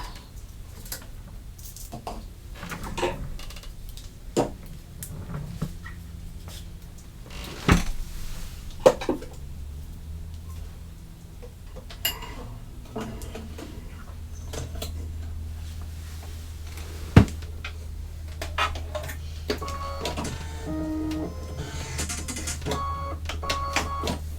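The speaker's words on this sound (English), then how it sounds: "it's doing the little stem, color number 8, and then it's going to do the satin stitch for the pumpkin" An embroidery machine stitches the stem of an in-the-hoop pumpkin coaster in brown thread, giving sharp, uneven ticks and clacks over a low motor hum that grows steadier and denser toward the end.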